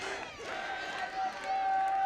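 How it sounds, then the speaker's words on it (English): Dutch supporters cheer from the stands at an under-17 girls' final against France, a rising crowd roar with whistles and shouts swelling louder toward the end, under a commentator's voice. "cheering section really getting loud now"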